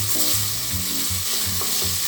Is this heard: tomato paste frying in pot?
yes